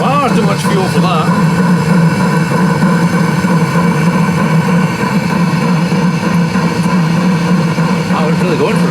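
A Webasto diesel heater under Arduino control runs hard, overfuelled and puffing black exhaust, with a loud steady droning hum and whine from its combustion fan and burner, continuous and close, with people talking over it.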